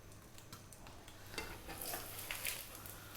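Ham, cheese and egg sandwich ingredients fry in a pan with a steady, fairly quiet sizzle, then a few louder scraping stirs and clinks near the end, with no talk.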